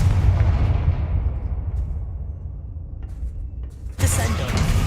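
A Confringo blasting spell goes off in a Harry Potter video game: a deep, booming rumble that slowly fades over several seconds, then a sudden loud crackling burst near the end.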